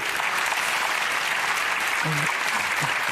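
An indoor audience applauds at an award reveal, a dense, steady wash of clapping throughout, with a brief voice or cheer in the middle.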